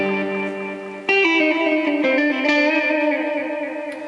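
Electric guitar played through a Boss DD-20 Giga Delay in tape echo mode, head 1, with sustained distorted notes and chords trailing repeated echoes.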